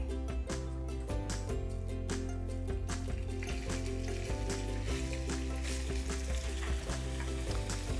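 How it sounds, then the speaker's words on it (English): Bacon frying in sesame oil in a pan over medium-high heat, a continuous close sizzle beneath steady background music. "Then we're gonna start off with our bacon. Get that browning a little bit, turn the pan up to about a medium-high heat."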